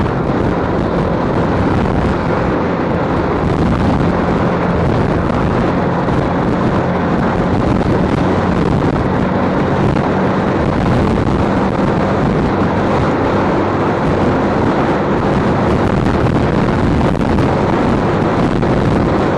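Wind roars and buffets the microphone while riding a Honda CBF125 motorcycle at speed, a dense, loud, continuous rush that masks any engine note throughout, with no speech.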